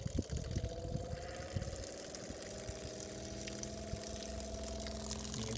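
Water pump of a van-mounted water-fed window cleaning system running steadily, a continuous mechanical hum and whine with rushing water, close and fairly loud throughout.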